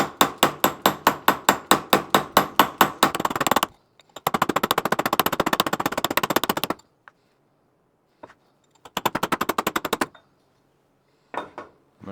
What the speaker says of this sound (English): I'm just going to tap it down with a hammer.